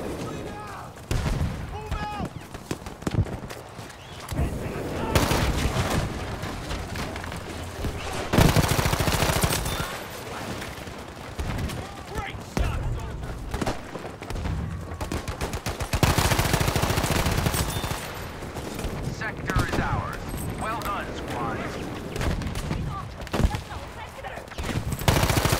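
M2 Carbine fire in Battlefield V comes in repeated bursts of rapid shots mixed with other battlefield gunfire and booms, with a player talking intermittently over the action.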